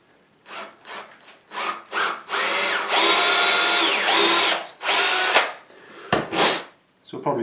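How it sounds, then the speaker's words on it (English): Power drill boring through a wooden SG junior style guitar neck to reach the truss rod nut, heard in loud repeated bursts of whining drilling, some short and some sustained, close up. "I just need to do a little bit of cleaning up with a chisel and drill through for the truss rod knot."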